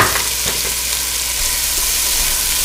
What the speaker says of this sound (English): I'm just going to let this cook until the vegetables soften